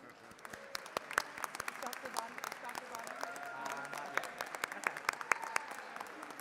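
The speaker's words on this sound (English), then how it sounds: "Let's give a big round of applause to Galveston County." Lawmakers and visitors applaud in the Texas House chamber during a Galveston County Day resolution, a steady roomy patter of many hands with sharper nearby claps standing out, lasting throughout at moderate loudness.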